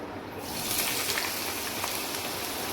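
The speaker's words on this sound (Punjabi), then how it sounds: "ਆਲੂ ਨੂੰ ਆਪਾਂ ਪਹਿਲਾਂ ਫਰਾਈ ਕਰ ਲਵਾਂਗੇ" Potatoes hitting hot oil in a kadai over a high gas flame, a sudden, loud, dense sizzle and crackle that starts after a brief quiet moment and continues evenly, with no talking.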